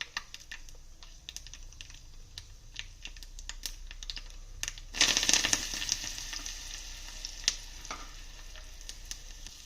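Curry leaves dropped into hot oil with crackling mustard seeds for a South Indian rava appe batter, sharp popping crackles that burst into a loud sizzle midway, then settle into scattered pops.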